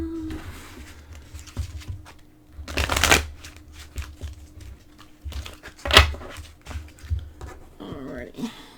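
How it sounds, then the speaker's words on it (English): A deck of oracle and angel cards being shuffled by hand, with two short crisp riffling bursts a few seconds apart while a person speaks quietly in between. "let me shuffle the cards and do your one-on-one relationship spread"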